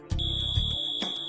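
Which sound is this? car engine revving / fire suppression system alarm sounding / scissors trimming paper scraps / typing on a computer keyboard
fire suppression system alarm sounding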